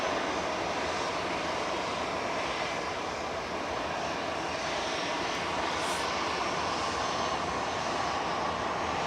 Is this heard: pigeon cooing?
no